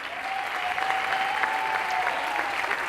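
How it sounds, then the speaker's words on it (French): An audience at a dance show claps steadily in dense, even applause. It is moderately loud and continuous, with a faint tone running underneath. "On peut l'applaudir."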